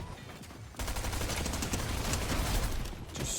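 Stinger SMG fire in a battle royale video game: rapid bursts of automatic gunshots, fairly faint and distant, running nearly continuously after a brief quieter opening.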